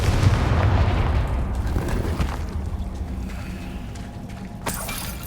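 The Confringo blasting spell from the Hogwarts Legacy game goes off as a loud, rumbling explosion with a crackling burst, followed by a fading roar and a sharp final crack near the end.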